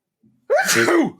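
A single sharp human sneeze breaks out close by during a podcast conversation about comics, preceded by a faint intake of breath and then a full, explosive burst lasting about half a second.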